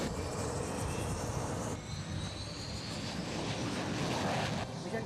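Indian Air Force fighter jet at a South Western Air Command base, a steady loud roar of jet engine noise sustained throughout with no voices.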